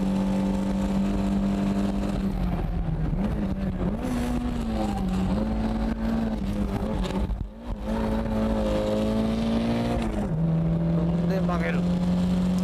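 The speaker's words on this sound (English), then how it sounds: "What I'm doing is simply turning the car with the gas pedal." A drifting car's engine holds a high, steady rev as the driver steers with the throttle, the pitch dipping briefly at a shift before climbing back, loud and continuous while someone talks over it.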